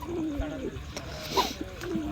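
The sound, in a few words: pigeon chick cooing in loft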